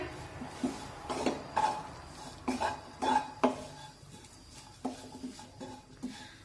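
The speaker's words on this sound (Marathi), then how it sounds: "त्यामध्ये 7 ते 8 लसूण पाकळ्या आणि थोडंसं अद्रक टाकूया आणि सर्व पुन्हा एकदा व्यवस्थित परतून घेऊया" Coconut, garlic and ginger sautéing in a pan for patavdi rassa masala, a series of spoon strokes knocking and scraping against the metal, rhythmic at first and then sparser, over a faint low sizzle.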